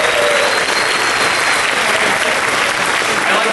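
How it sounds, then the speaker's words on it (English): An awards show audience for virtual reality content applauds loudly and continuously, a dense wash of clapping with some crowd noise throughout the short stretch. "Give yourselves a round of applause."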